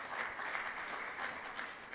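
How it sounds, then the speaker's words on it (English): Steady applause from an audience at an investment managers' forum in 2017, a dense wash of clapping held at even level for the whole stretch. "Give her a round of applause"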